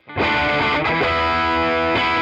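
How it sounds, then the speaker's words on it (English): Electric guitar played through an overdrive pedal with a warm, crunchy tone, a chord struck and ringing on, then re-struck, loud and alone without talking. "Then you've got overdrive, which adds a warm, crunchy sound that's perfect for blues and classic rock."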